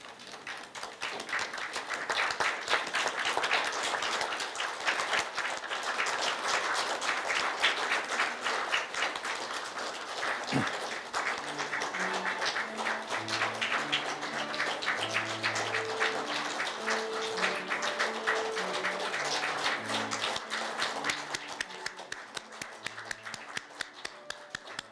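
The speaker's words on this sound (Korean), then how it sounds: "모두 일어나셔서 박수로 환영해 주시기 바랍니다" An audience at a Korea University honorary doctorate ceremony stands and claps to welcome the entering procession of officials. The applause is sustained and even throughout, with soft tonal notes entering partway through.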